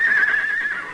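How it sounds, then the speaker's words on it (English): A nearby horse answers with a loud, bright whinny, one sustained call that holds steady and then fades out within a second, alone with no talking. "There's one of ours answering him."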